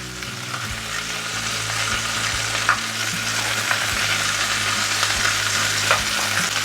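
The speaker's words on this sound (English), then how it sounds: "First thing I'm gonna add is my garlic." Garlic fries in a pan of hot oil while Jamaican-style chicken drumsticks are being cooked. A steady, close sizzle runs throughout, broken by occasional soft clinks of stirring.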